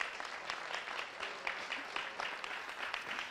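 An audience claps at a wedding celebration, a steady, moderately faint patter of many hands continuing throughout without a break.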